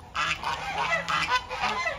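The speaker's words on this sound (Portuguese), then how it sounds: "dos gansos que estão lá atrás" Geese at a poultry farm pond honk repeatedly in loud, nasal, overlapping calls from fairly close, several birds trading honks in quick succession without any voices.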